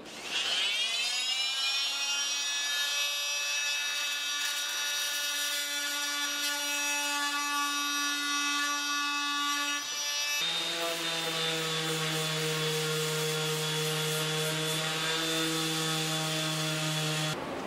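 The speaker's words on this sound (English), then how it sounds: "now I'll go ahead and use my multi-tool and cut down these slats" An oscillating multi-tool cutting down wooden slats for a bent-lamination end table, giving a loud, continuous buzzing whine that drops to a lower pitch partway through and runs without a break.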